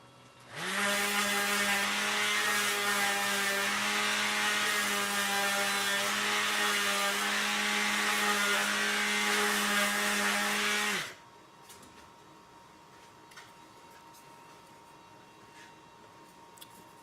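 A WeCreat laser engraver running a job at 300 millimeters a second, its steady loud buzzing whine with a fixed tone holding for about ten seconds, then cutting off to a quiet room hum.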